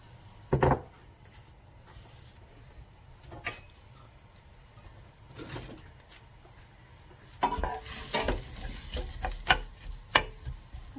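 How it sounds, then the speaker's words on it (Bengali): Large roughly cut onions cooking in hot vegetable oil for a duck curry, a quiet steady sizzle with occasional utensil knocks, growing louder and busier with stirring toward the end. "পেঁয়াজগুলো আমি ব্রাউন হওয়া পর্যন্ত কুক করবো।"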